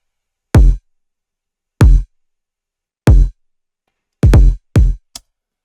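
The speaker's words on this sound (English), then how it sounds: "It's a pretty nice kick." A punchy electronic kick drum plays in isolation, with five deep booming hits in a steady rhythm and a short extra tap at the end, loud and close with silence between the hits.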